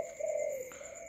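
Pigeons cooing, a steady low hooting call with a slight swell partway through, close and fairly loud against a quiet background with no talk.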